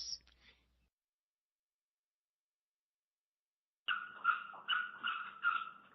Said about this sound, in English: Puppy wants to be on air.